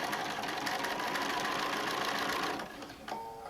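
Sewing machine stitching around a bulky quilt-as-you-go tote bag in a steady, continuous mechanical whir, then slowing and stopping near the end with a brief restart.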